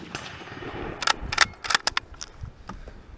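A Carcano 1891 infantry long rifle in 6.5x52 fires at close range, giving a cluster of sharp cracks followed by metallic clinks and rattles of the action and clip, the bursts uneven and spaced, with no talk.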